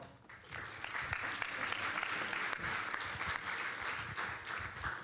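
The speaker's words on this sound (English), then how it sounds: "And an extra clap, please, for Justine Greening." An audience applauds at a nutrition movement global gathering, a dense, sustained patter of many hands clapping heard from a distance in a large hall, with no speech over it.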